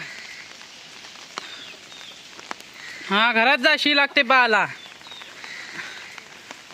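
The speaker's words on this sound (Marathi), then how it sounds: "पाऊस परत आलेला आहे छत्रीचा आवाज तुम्हाला येत असेल छत्रीवरती थेंब थेंब पडतात ते बघा" Monsoon raindrops patter steadily on an umbrella during heavy Konkan rain, a faint, constant tapping under a short burst of nearby talk in the middle.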